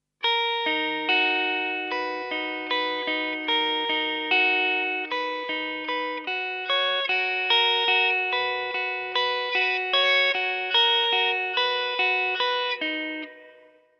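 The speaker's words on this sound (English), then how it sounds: "And the whole riff so far sounds like this." An electric guitar plays a riff, a steady run of repeated picked notes with chorus-like effect shimmer, loud and alone for about thirteen seconds before ringing out.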